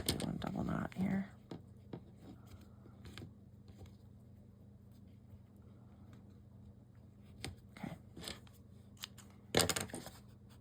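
Scissors snip thread while finishing a needlepoint flat-back standup, with a few quiet close clicks and snips spread through a mostly hushed stretch, and one sharper cut near the end.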